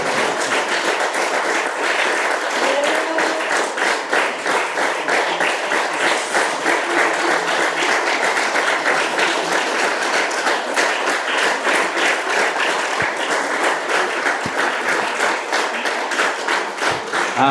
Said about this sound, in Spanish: darle un fuerte aplauso al Señor